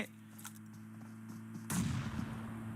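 A grenade goes off in a PUBG Mobile professional league match: a sudden loud blast midway cuts through faint gunfire-like popping, then rumbles and crackles as it fades.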